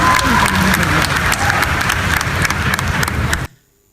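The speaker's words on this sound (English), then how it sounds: "They got the biggest applause of all demos that day, definitely" Enthusiastic crowd applause after a startup demo presentation, loud dense clapping that carries on for about three and a half seconds before cutting off abruptly to near silence.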